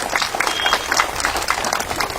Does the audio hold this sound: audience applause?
yes